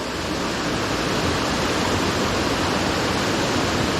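Holcomb Creek Falls pours steadily down rocks in a forest, a close, loud, unbroken rush of water with no pauses.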